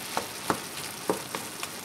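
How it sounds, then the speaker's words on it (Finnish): Fusilli pasta water being stirred and heated in a pot on a stove, with a few soft scrapes and clinks spaced irregularly over a faint steady sizzle. "minä tässä näitä hämmentelen ja lämmittelen tuota vettä tuossa"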